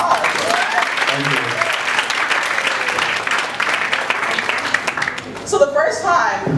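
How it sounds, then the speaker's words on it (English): An audience at a Jamaican keynote event gives a round of applause, sustained crowd clapping with some voices mixed in, tapering off as a speaker begins talking at the end. "give him a round of applause"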